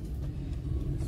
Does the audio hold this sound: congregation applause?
no